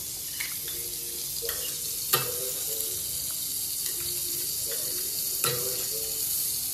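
Butter sizzling in a pan while cooking malai kofta, a steady soft crackle with a few clinks and stirring knocks; it is fairly quiet overall.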